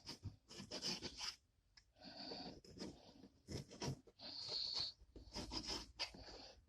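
A knife repeatedly slicing skinless beef sausage into cubes on a cutting board, with quick rasping, scraping strokes in short irregular bursts, close and fairly quiet, with no talk.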